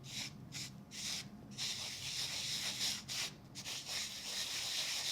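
A rub it scrub it tool pushing gilding flakes onto exposed adhesive on a die-cut piece, soft close scratchy rubbing strokes in short bursts with brief pauses between them, faint and quiet.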